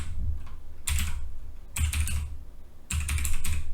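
Code being typed on a computer keyboard in VS Code, bursts of rapid close keystrokes separated by brief pauses, the clatter loud and clear with no voices.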